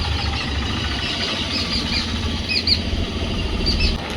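A Honda Activa scooter engine idles with a soft, steady putter just outside a house, with faint clicks and scrapes as it is wheeled out.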